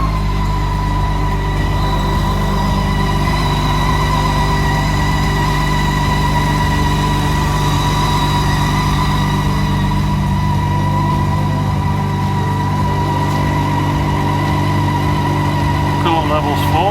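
A BMW K1600 motorcycle engine idles close by after a coolant change, a loud, steady mechanical hum throughout with a faint rattle near the end.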